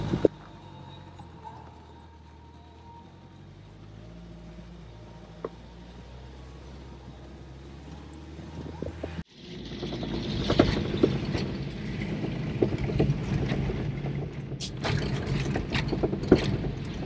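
A Land Rover on an overland expedition from the UK to Greece rolls through the small village of Kute. A low, quiet engine hum gives way midway to a louder, rougher rumble of road and cabin noise, with no talking.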